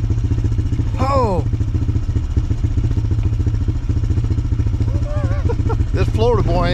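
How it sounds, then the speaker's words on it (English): A four-wheeler ATV engine drones steadily and loudly while being ridden in cold weather, with someone talking over the engine noise. "trying to ride this four-wheeler with no gloves on"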